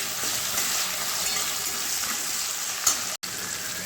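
Kochu saag being sautéed with turmeric and salt in a pan, a steady loud sizzle with a hissing, watery texture, broken by one brief dropout near the end.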